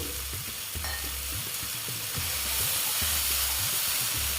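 Gobindobhog rice is stirred into potatoes frying in a pan, with a steady sizzle under a run of soft, rhythmic scraping thumps from the spoon, close and fairly loud throughout.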